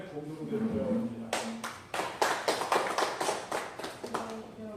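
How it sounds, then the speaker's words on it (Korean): Audience applause at a press conference, a short burst of many hands clapping that starts after a man's spoken introduction and fades out, with his voice returning at the end. "우리 박수 한번 주시죠"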